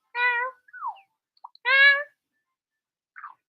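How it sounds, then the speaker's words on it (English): A cat meowing twice, with clear harmonic, close-sounding meows separated by a pause and a few faint short chirps and squeaks in between. "It's meowing somewhere."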